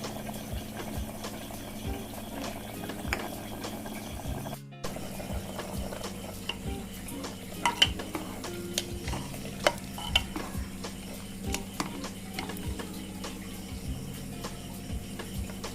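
Chicken simmering in a pot with Arunachali masala leaves, a soft steady bubbling sizzle with scattered light clicks and stirring knocks, close and quiet, with no talking.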